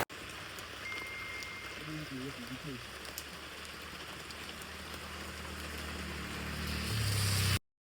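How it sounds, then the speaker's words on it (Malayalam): Light rain falls steadily outside a small tea shop near a lily pond, a soft continuous patter that swells louder toward the end, with a brief hum of a passing engine partway through. "മഴ കുറച്ചുണ്ട്, എന്നാലും ഫുള്ളി പോയിട്ടില്ല, കുറച്ച് മഴയുണ്ട്."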